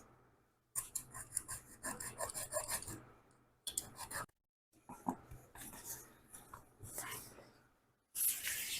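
A knife cutting through IKEA Fonsterblad blockout roller blind fabric, heard as close, scratchy rasping strokes in several bursts separated by short silent gaps.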